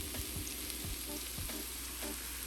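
Sauteed peppers frying in a pan, a steady hissing sizzle with a few low thumps and scrapes as they are moved around, moderately quiet and close, no talking.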